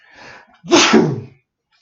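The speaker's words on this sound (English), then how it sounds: "hold on, I gotta sneeze" A single loud, close sneeze bursts out after a brief soft intake of breath, then quiet follows.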